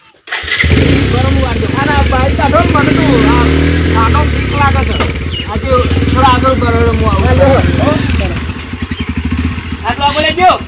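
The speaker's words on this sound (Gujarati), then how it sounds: "હું મારું બાઇક લેતો આવું" A motorcycle engine starts and runs loudly close by, revving and idling with an uneven throb and rattle, while people talk over it throughout.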